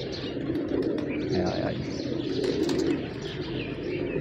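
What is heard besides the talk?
pigeons eating grain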